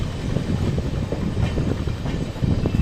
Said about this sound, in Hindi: ट्रेन प्लेटफॉर्म 2 पर जा रही है।